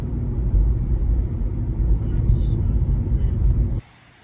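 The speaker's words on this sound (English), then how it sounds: "I'm just gonna move the car 2 inches in the parking lot." A car creeps a short distance across a parking lot at night, a steady low engine rumble and road noise that cuts off abruptly near the end, heard close by.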